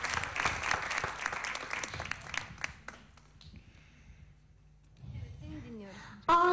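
A hall audience applauds to welcome Mücahit to the stage for a poetry recitation, a dense burst of clapping that fades to near quiet, followed by a voice and a loud noise at the end.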